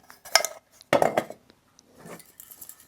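Metal camping canteen set with a stove top and cup being handled, giving a few close clanks and rattles of lightweight metal in short bursts separated by pauses.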